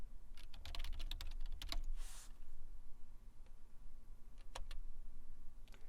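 A password is entered on a computer keyboard in a fast cluster of soft, close key taps. A heavier keystroke follows, then a few scattered clicks over a low, quiet room hum.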